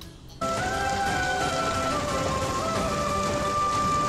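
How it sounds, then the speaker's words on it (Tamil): Steady rain falling outdoors, a dense continuous patter that starts abruptly and holds at an even, fairly loud level, with no voices over it. "மழை பெய்யுது"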